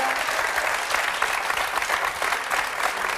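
A studio audience on a French television talk show applauds a participant returning to her seat, a dense steady clatter of many hands clapping throughout with no voices over it.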